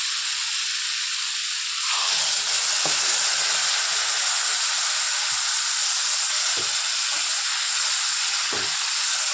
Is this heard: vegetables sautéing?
yes